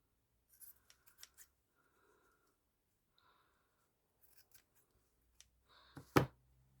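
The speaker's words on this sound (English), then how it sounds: "I'm just going to trim off" Scissors snip at a cotton fabric bow with a few quiet, scattered cuts, then one sharp, louder clip near the end. The cutting is close-up in an otherwise quiet room, with no talk.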